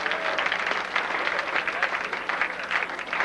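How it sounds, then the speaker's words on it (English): Steady applause from an audience at a 1994 high school awards ceremony fills the hall, continuous clapping at moderate loudness, with a voice faintly mixed in. "A round of applause for Mr."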